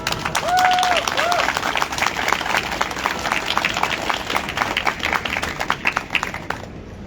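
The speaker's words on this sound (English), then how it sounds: "Applause for yourself." An outdoor crowd applauds at a rally on the Grote Markt in Groningen, a steady wash of many clapping hands with a couple of brief whistles near the start, fading slightly toward the end.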